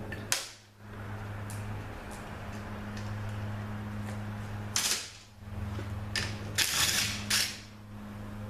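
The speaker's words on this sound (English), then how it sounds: "Some of these things are a little tight, so I gotta use a chrome socket." Chrome socket ratchet working tight bolts on a 62TE transmission pump during teardown, giving short bursts of clicking and creaking mechanical noise over a steady low hum, fairly close with pauses between.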